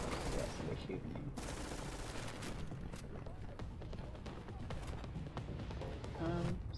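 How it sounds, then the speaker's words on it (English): Rapid gunfire during a firefight in The Division, a steady rattle of shots with scattered louder bursts, sitting at a moderate level under a busy game soundscape. "Yes, they're shooting him."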